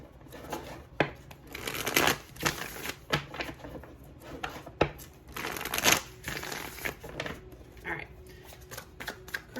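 Rapid papery riffling and soft snaps of tarot cards being shuffled, coming in bursts with brief pauses, close by, with a few quiet murmurs.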